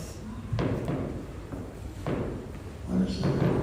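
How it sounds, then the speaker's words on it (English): Fireworks going off outside on New Year's Eve near Phoenix, South Africa: several muffled distant thumps and bangs at irregular intervals, heard indoors over a low background with faint voices. "What is that? Oh, fireworks."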